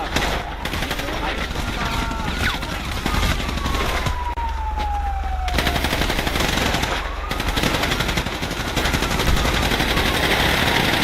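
Rapid bursts of automatic gunfire in a roleplay video game crackle continuously over a wailing siren sweep, with dense overlapping shots and voices mixed in.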